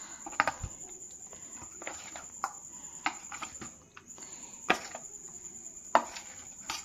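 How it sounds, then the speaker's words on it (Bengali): A spoon stirs batter thinned with water in a bowl for a low-oil breakfast snack, giving faint, irregular clicks and scrapes over a steady high hiss. "আর একটু জল দিচ্ছি, নিয়ে আবারও গুলে নিচ্ছি এটা।"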